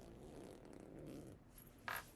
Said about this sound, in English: Sorry, zipper.